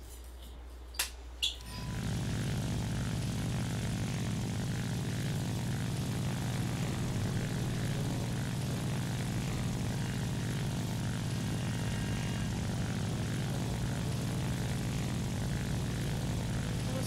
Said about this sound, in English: Let's go mini bomber now.